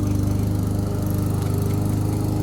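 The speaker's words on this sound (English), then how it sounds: "mind the lawnmower in the background" A lawn mower engine drones steadily and loudly, its rapid mechanical pulsing constant throughout with no voices.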